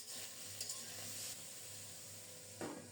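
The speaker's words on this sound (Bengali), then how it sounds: "শাক রান্নার জন্য প্রথমে আলুগুলো একটু লাল লাল করে ভেজে নেব" Potatoes fry in a pan for cooking spinach, a quiet steady sizzle with faint stirring scrapes, heard up close without speech.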